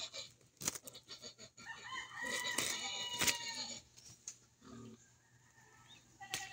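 Chickens cluck and squawk in bursts among farmyard noise, with a rooster-like call and grunting sounds at moderate distance.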